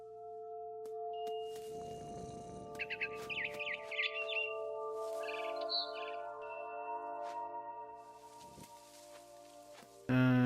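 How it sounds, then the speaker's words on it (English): In the video game What Remains of Edith Finch, a barn swallow chirps near a window as it returns to its nest, with short bright twittering bursts over a steady low ambient hum and a few soft footstep-like knocks. "Then I heard chirping outside my window. It was a barn swallow going back to her nest."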